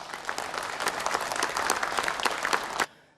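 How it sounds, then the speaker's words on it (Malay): University audience in Sarawak claps in a brief, lively burst that swells and then stops abruptly, moderately loud in a hall. "Bagi tepukan."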